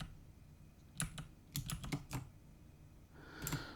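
Quiet, close tapping on a computer keyboard as a search term is entered, a few scattered clicks followed by a quick burst of keystrokes, then a pause and one last short cluster.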